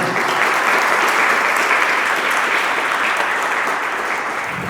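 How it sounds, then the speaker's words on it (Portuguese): Sustained, loud applause from an audience at a Catholic gathering on Marian devotion, honoring Saint Louis-Marie Grignion de Montfort, a dense steady clapping that holds evenly throughout with only a slight fade near the end. "Uma salva de palmas para São Luís Maria Grimond de Montfort"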